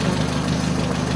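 A 1951 Citroën Traction Avant with its 11-horsepower engine idles at a steady, close rumble at an outdoor vintage car gathering, with no talk over it.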